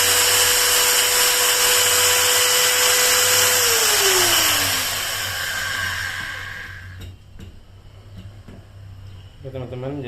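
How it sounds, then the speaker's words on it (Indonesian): A Bosch GWS 060 angle grinder running with no load gives off a loud, steady high whine. Partway through it winds down and the pitch drops as it coasts to a stop, and a voice then speaks near the end. "Kita hidupkan. 335 watt ya teman-teman."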